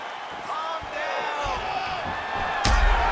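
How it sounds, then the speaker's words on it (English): UFC arena crowd roaring and shouting around a featherweight bout as a calf kick lands, a sharp impact thud near the end, with commentary voices over the dense crowd noise. "you can hear the crowd as yet another calf kick lands"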